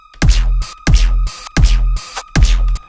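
Serum synth riddim bass with a flanger, Barely Alive style, heard as four evenly spaced, punchy hits, each opening with a bright metallic sweep over a heavy low drone, with short gaps between them and no talking.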